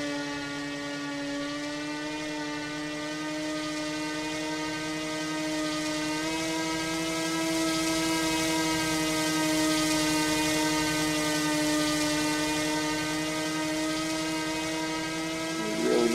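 An E-Flite Cessna 150 model airplane in the RealFlight 9 simulator game gives a steady, droning engine whine with a strong harmonic buzz, rising slightly in pitch and loudness midway as it flies, with no talking.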